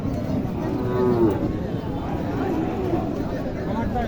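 Young heifers at a rural cattle market in Naogaon district, with one lowing moo rising above a steady hubbub of crowd noise and livestock around it.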